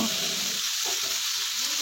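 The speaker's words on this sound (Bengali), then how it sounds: "আলুটা কিন্তু আমি একদম লালচে করে আর নরম করে ভাজছি না, শুধু তেলের মধ্যে নাড়িয়ে চাড়িয়ে নেব" Potato pieces sizzle steadily in hot oil in a pan while being stirred, a close, continuous broadband frying hiss with soft scraping under it and no talk.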